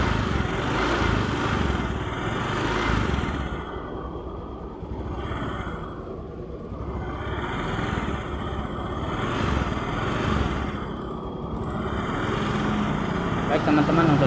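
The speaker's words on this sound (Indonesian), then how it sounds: "Ini motornya mati lagi ini ya. Motornya tidak mau langsam teman-teman, dan di gas awalnya agak berat." A Honda Beat fuel-injected scooter with a stalling fault and rough idle chugs unevenly up close in a steady mechanical drone, with the engine note surging and sagging.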